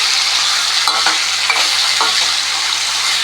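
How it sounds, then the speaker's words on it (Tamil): Vegetables for chickpea vatha kuzhambu sauté in a pan with a loud, continuous sizzle and repeated scraping strokes of a stirring spoon; no one speaks. "அதையும் போட்டு நல்லா வதக்கிடலாம்"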